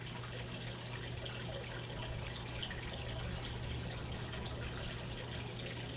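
Water running into a hot tub, a continuous soft rushing and splashing from a tap, steady and moderately quiet with a low constant hum underneath.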